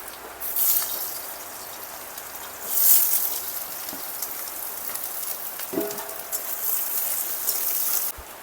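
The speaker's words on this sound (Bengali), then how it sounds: "বৃষ্টি নেমে গিয়েছে বৃষ্টি শব্দ হবে আপনারা একটু ম্যানেজ করে নেবেন" Rain falls outside during home cooking of pork with bamboo shoot, a steady close hiss of drops on surfaces with a few brief knocks and swells, no talking.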